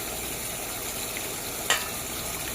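Fish frying with chili in a pan, a steady close sizzle with a single sharp clink of a utensil partway through.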